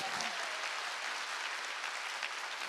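A church congregation claps together in sustained, dense applause at an evening spring mountain revival meeting, with the clapping steady and loud from start to finish.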